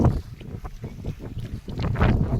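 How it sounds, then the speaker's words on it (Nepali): Gusty wind buffets the microphone in uneven rumbling bursts, loud and close, with no voices, up on a hill near Syaphrubesi in Rasuwa, Nepal. "फेरि हावा चल्दो यस्तो छ फेरि।"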